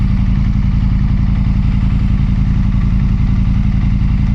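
A motorcycle engine thrums loudly and steadily with a fast low pulsing throb during a ride, close and unbroken throughout.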